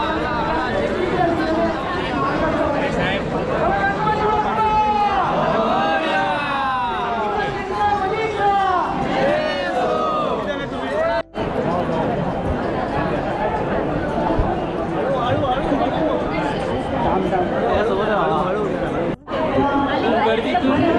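A dense festival crowd at the Mumbai Ganpati celebration fills the air with constant chatter and babble, many voices overlapping close by for the whole stretch, with occasional brief dropouts.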